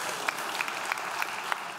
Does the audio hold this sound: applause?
yes